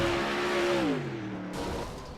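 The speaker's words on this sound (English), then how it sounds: "Only one car on the track." A single race car on an oval track drones steadily, its engine pitch easing downward as it passes, a moderately loud sweep lasting a couple of seconds with no talk.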